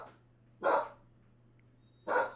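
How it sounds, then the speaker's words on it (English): A dog gives two sharp single barks about a second and a half apart, fairly close, over a quiet room with a low steady hum. "She's gonna bark as long as Lucy's whining"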